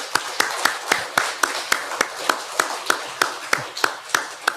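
Church congregation at a Sunday service clapping in unison for the children, a steady rhythmic series of sharp, evenly spaced claps about four per second, moderately close with no talk over it.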